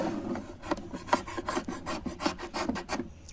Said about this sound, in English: So I just kept scraping